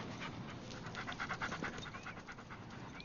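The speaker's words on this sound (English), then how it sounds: "Whoa! Good doggy." A dog pants close by in steady, rapid breaths at moderate loudness, with no voice over it.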